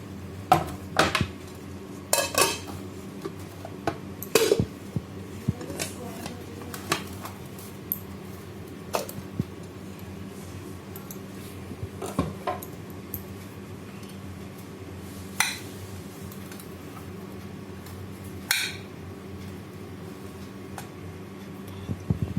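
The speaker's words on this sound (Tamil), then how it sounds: "பிளேட்டில் தட்டிடலாம்." Pieces of Mysore pak are tapped out of a tray onto a plate in a series of sharp, scattered knocks and clinks against a quiet background, spaced irregularly over a long stretch.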